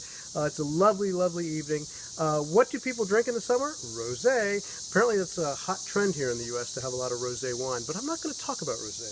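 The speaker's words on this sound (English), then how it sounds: "You can hear the cicadas in the background." A constant high-pitched buzzing drone of cicadas in mid-August Virginia fills the background, steady and moderately loud, while a person talks over it throughout.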